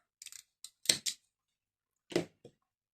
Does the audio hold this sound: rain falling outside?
no